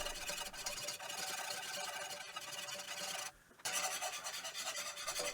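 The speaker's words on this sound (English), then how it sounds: "add the flour, and whisk until it's smooth, and we've got a lovely blonde roux" A whisk works flour into melted butter for a blonde roux, a steady close raspy scraping against the pan with a brief pause near the end before it resumes.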